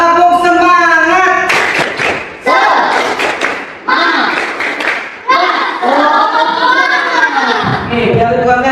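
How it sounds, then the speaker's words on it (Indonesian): Schoolchildren in a classroom chant and clap together in a rhythmic spirit-clapping routine, with sharp, loud claps punctuating their sung voices over about nine seconds. "Sebelum kita mulai, kita tepuk semangat dulu. Tepuk semangat."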